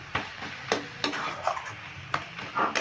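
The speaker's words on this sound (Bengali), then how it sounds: "এবার পিটুলিটা আমি ভালো করে নেড়ে শাকের সঙ্গে মিশিয়ে নিচ্ছি" Rice-flour paste being stirred into khesari greens in a pan, with a soft repeated scraping of a spoon against the metal at an irregular rhythm over a faint sizzle, close and quiet.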